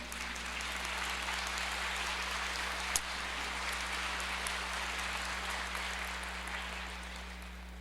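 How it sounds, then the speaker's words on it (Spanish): A church congregation applauds during a Spanish-language sermon, steady dense clapping held at an even level for several seconds, with hum in the room underneath. "Dale un aplauso al Señor"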